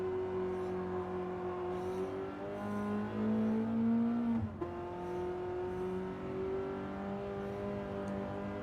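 A race car engine in Gran Turismo roars steadily, its pitch climbing through the gears, dropping briefly at a shift and then rising again, loud and close with a faint whir of tires, no voices.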